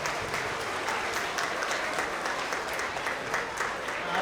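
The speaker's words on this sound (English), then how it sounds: "Let's give our first graders a round of applause" A school audience applauds first graders at a spring award assembly: loud, dense clapping from a large crowd that stays even throughout, with no voices standing out.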